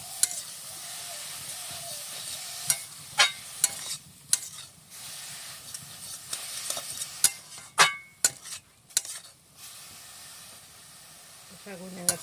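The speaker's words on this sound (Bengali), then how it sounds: "শাকটা বারবার নাড়তে হয়, আমরা তো জলটা শুকিয়ে যায়, জলে সিদ্ধ হবে শাকটা।" Pea greens (matar shak) cooking down in a pan are stirred again and again, with irregular clinks and scrapes of the spoon over a steady sizzle, close and fairly loud.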